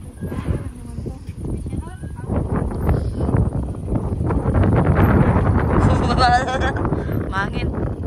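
Strong wind buffets the microphone outdoors with steady rumbling gusts, while people talk over it throughout.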